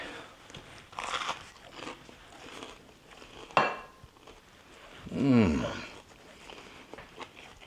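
A few loud, close crunches from biting into a crisp fried pork sandwich, with quiet chewing and soft clatter between bites.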